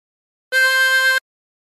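A chromatic harmonica blown into hole 5, one clean steady note lasting under a second, bright and isolated with silence on either side.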